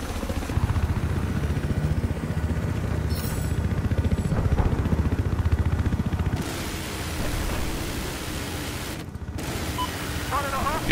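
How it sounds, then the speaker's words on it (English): Helicopter rotor and engine drone from a Battlefield 4 multiplayer match on the Hammerhead map, a loud continuous whirring hum that shifts partway through, mixed with game clatter and distant gunfire. "Chopper."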